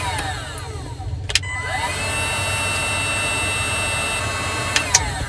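Heat gun blowing hot air onto a heat-shrink wire connector around a gray wire on a pontoon boat, a steady whining fan hiss with rising and falling tones and a couple of small clicks.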